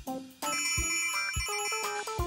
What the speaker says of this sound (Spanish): Ese curioso objeto se llama teléfono.